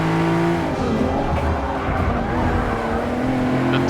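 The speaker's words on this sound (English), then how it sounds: "You hear the tires, they're like dying." Tires squeal loudly as a race car in Forza 6 Apex takes a sharp left turn, the strained screech sustained over the roaring engine for several seconds.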